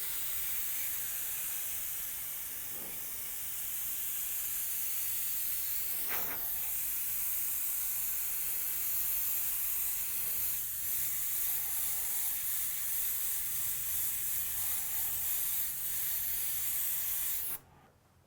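Aerosol spray of Wicked Opaque Black paint misting onto a helmet in light coats, a steady close hiss running nearly continuously with brief dips between passes, cutting off abruptly near the end.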